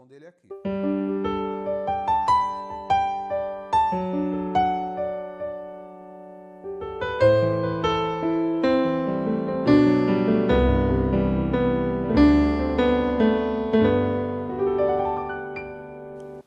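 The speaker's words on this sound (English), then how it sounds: "This one is the acoustic piano that I like the most." An acoustic piano tone on a Roland Fantom-0 keyboard plays a slow sequence of chords and single notes, each struck cleanly and decaying, building to fuller, richer chords toward the end.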